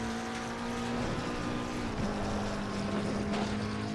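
Ferrari 488 Challenge race car in the game Assetto Corsa Competizione, sliding through a corner at Monza, a steady engine drone that shifts pitch mid-clip, heard alone at a moderate level.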